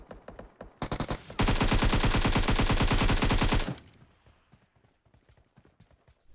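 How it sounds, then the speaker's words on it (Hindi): Gunfire in a video game: sporadic single shots, then a sustained loud burst of rapid automatic fire lasting a couple of seconds, followed by quieter scattered shots fading off. "आगे दबा के गोली चल रही होती है, बहुत ज्यादा दबा के"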